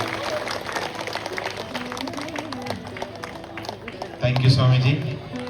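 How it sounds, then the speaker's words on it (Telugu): An audience at a Hindu gathering claps for Swamiji, a blur of clapping mixed with voices, with a louder burst of sound near the end. "స్వామీజీకి చప్పట్లు కొట్టండి గట్టిగా."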